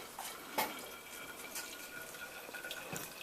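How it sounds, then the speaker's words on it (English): About 30 milliliters of water poured into a container, giving a quiet, brief trickle with a few soft splashes and drips, heard alone and close. "you pour in 30 milliliters of water"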